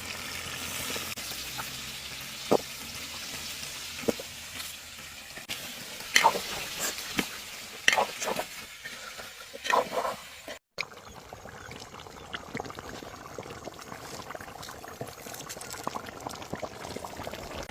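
A pot of duck curry with potatoes cooking over a fire in a hill-country garden hut, with soft bubbling, sizzling and pouring sounds, a few clattering knocks and occasional faint voices in the background.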